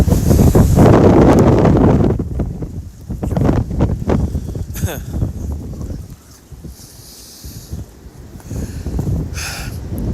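Strong gusting wind during a winter windstorm in Oswego roars and buffets the microphone, surging loud then easing and building again in waves.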